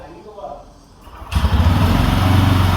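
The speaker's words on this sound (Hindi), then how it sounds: "एक बार भाई इसकी सेल्फ स्टार्ट देखेंगे कितना स्मूथली सेल्फ स्टार्ट होती है भाई" A Bajaj Pulsar N125 motorcycle fires up on its electric self-start, with quiet murmuring before it turns over. Then a steady, loud idle rumble continues close by.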